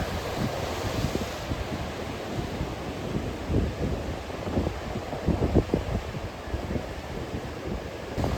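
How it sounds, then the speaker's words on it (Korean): Strong wind buffets the microphone in heavy gusts while ocean waves surge and crash on a coastline, a loud continuous roar. "바람은 엄청나게 불었습니다."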